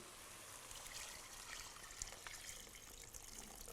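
Stock pours into a pan of vegetables for Manchow soup, a steady trickling stream of liquid that is soft and continuous, with a faint clink partway through.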